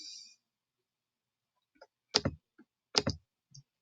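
Two close, crisp double clicks from a computer mouse in a quiet room, each a quick pair of sharp taps with faint ticks around them.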